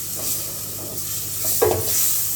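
Tomatoes are stirred into onions and garlic frying in a pan, a steady hiss of sizzling with soft scraping strokes and a brief louder clatter near the end.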